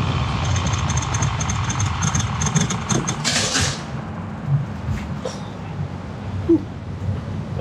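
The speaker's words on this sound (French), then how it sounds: "On va faire un freinage, le feu passe au rouge." A car slowing to a stop with a high brake squeal in the first seconds, then the engine settling into a steady low idle, with faint light knocks in the background.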